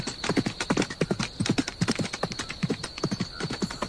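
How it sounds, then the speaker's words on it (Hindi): A horse ridden at night toward the fields clip-clops along in a steady, even rhythm, its hoofbeats close and distinct. "मंत्री जी रात के समय अपने घोड़े पर बैठकर खेतों की तरफ निकल पड़ा"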